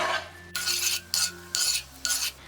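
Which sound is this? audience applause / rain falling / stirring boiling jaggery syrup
stirring boiling jaggery syrup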